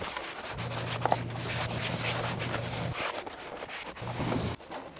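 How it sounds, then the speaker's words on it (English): Brush scrubbing on car interior plastics with rubber cleaner, a quiet close-up rasping rub in uneven back-and-forth strokes over a low steady hum. "you can use a drill brush or a scrubby brush by hand"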